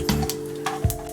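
Mustard seeds hit hot avocado oil in a pan, giving a short, close sizzle with a few sharp crackles and pops.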